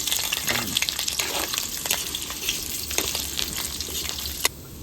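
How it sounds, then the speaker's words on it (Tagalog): Squid balls frying in a pan of oil, a continuous close sizzle with crackling bursts and a brief clank near the end, no voices. "mapiprito muna tayo ng squid balls"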